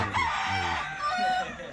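Crowing from a blond rooster kept on a farm, one long drawn-out call at close range with no talk over it.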